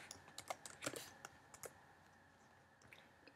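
Code being typed in Xcode on a computer keyboard: a quick run of crisp, close key clicks that thins out into sparser, softer taps.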